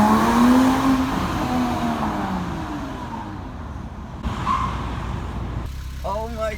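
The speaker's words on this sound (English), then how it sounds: "I had no idea my car actually sounded like that" A Porsche Cayman driven with its engine cover removed roars loudly and continuously at around 3,000 RPM, its pitch rising and falling with throttle, while a voice cuts in briefly near the end.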